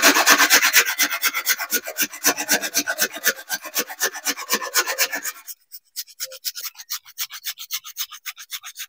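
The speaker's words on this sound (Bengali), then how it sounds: "এই গ্রেটারের সাহায্যে এই প্রদীপটা একটু গ্রেট করে নেবো, একটু পাউডার বের করে নেবো।" An old clay lamp is grated against a metal grater in close, rhythmic rasping strokes, loud and even at first, then lighter and more spaced in the second half.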